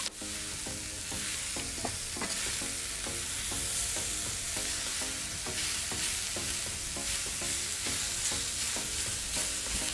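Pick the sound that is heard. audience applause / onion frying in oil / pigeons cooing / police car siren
onion frying in oil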